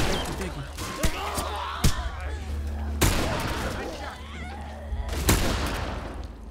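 Gunshots in the video game The Last of Us crack out in sharp bursts, a few loud reports spaced a second or so apart, over a steady low rumble with people talking throughout.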